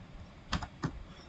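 A few quick keystrokes on a computer keyboard while an email address is typed, two soft clustered taps standing out against a quiet room, with no talking.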